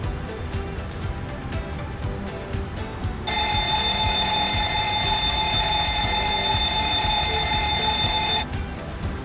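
A continuous ringing fire alarm bell sounds during a cockpit test in the iFly 737 in Microsoft Flight Simulator 2024, a steady loud electronic ring lasting about five seconds over cockpit background noise before it stops.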